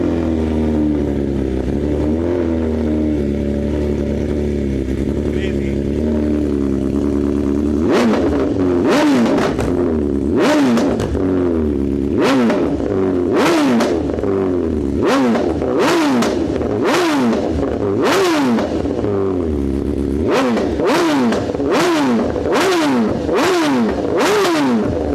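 A superbike with an SC Project exhaust cold-starts and then revs hard in repeated sharp bursts, loud and close, after a steady rough idle at the start.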